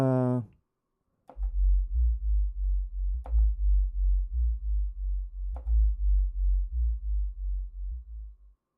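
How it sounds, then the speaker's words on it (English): Synthesized sine-wave bass from Reaktor pulses in a steady rhythm of low, smooth tones, with occasional sharp clicks and a brief voice at the very start. "first one is a sine wave"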